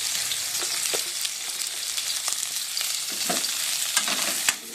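Chopped onions fry with a few cumin seeds in a small amount of oil, giving a steady, close, continuous sizzle with occasional soft stirring scrapes throughout.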